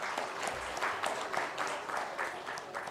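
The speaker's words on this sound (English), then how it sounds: "I think a big round of applause for Mr." Audience applause fills a summit hall on growth and employment in Odisha, a steady dense wash of clapping throughout, moderately loud and continuous with no speech over it.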